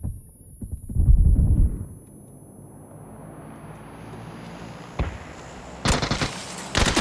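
Gunfire in the PUBG battle royale game: a loud burst of low, booming impacts near the start, then sparse sharp cracks and a final cluster of quick shots, over a rumbling background.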